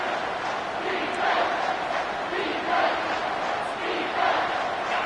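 A loud football stadium crowd roars continuously in a rocking, swelling wall of noise with rising chants, heard alone without talk.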